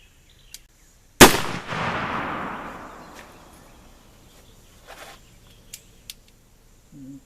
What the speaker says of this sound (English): I'm going to try to aim very consistently at the same spot and show you how the pistol will group